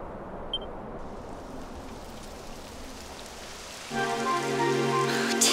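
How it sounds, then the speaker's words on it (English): Rain starting in the fantasy role-playing game Dragon Quest XI: a soft, steady hiss of rainfall that swells louder partway through, joined by sustained tonal game music in the second half. "It would have to go and start raining, wouldn't it?"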